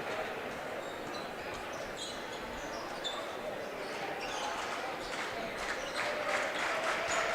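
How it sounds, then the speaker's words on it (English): A student section claps during a boys' high school basketball game, sounding as steady crowd clapping and arena noise with a commentator's voice over it and the claps building toward the end. "The student section getting a little into it here with the claps"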